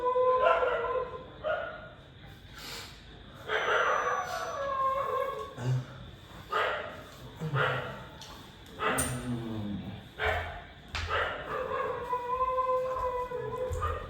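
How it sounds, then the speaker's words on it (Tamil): Dog barking and howling indoors in a family home, with repeated bursts of barks, yips and drawn-out howls spread throughout, fairly close, with people talking in between. "நாய் வேற நீ பேச விட மாட்டேங்குது."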